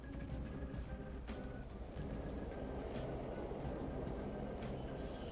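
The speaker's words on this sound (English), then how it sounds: "Okay, a train showed up." Subway train pulling into a station in Persona 5, a steady low rumble and roar filling the whole stretch at constant loudness, with faint repeated clicks and rattles over it and no talk.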